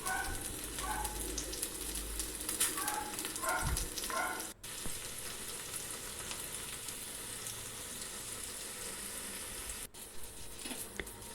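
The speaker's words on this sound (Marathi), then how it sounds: "हे आपल्याला चांगले सोनेरी रंगावर परतून घ्यायचे आहेत" Sliced onions sizzle steadily in hot oil while sautéing to golden brown, with a few soft stirring clinks early on, then an even, continuous frying hiss without any talking.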